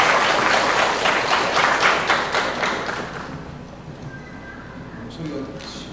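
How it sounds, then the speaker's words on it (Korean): Congregation applauding in a church during a Sunday student service, a dense burst of many hands clapping that fades over several seconds into quiet, with a few faint sounds at the end. "박수 한번 쳐주십시오"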